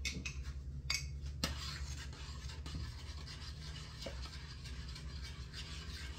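A utensil scrapes and stirs around a pan as cornstarch is worked into gravy. The scratching is soft and continuous, with a few sharper clinks against the pan over a low background hum.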